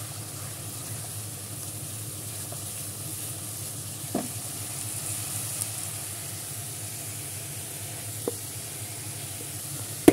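Pigeon meat fries with spices in a pan, sending up a steady, even sizzle throughout, with a couple of faint clicks and a sharp tap near the end.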